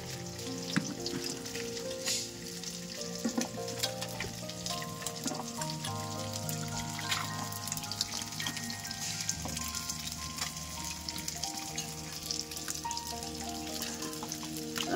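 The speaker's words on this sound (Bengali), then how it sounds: "মাছগুলো আমার ভাজা হয়ে গেছে" Fish fry in hot oil in a pan with a dense, steady sizzle and crackle, punctuated by occasional sharp pops, continuous and alone without voices.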